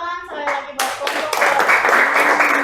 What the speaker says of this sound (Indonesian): silakan tepuk tangan sekali lagi buat kelompok